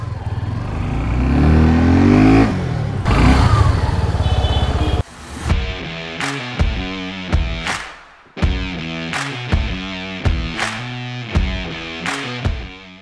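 A Suzuki Gixxer 250cc motorcycle: a few seconds of loud wind and engine roar, then a series of rising revs that surge and drop repeatedly, close and prominent.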